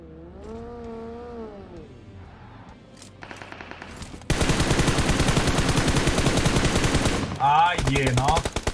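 Sustained rapid automatic gunfire from a video game, a dense rattling spray of shots that runs for several seconds at high level, with gameplay sounds and brief voices before it.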